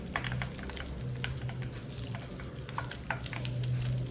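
Garlic fries in hot oil until its outer layer crisps, a steady soft sizzle dotted with irregular pops and crackles, close by and with no talking.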